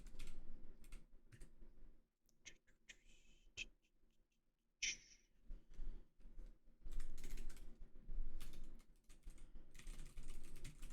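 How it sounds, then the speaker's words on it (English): Someone types on a computer keyboard in quiet bursts of rapid clicking keystrokes, separated by short pauses, close and soft. "I should just start typing things."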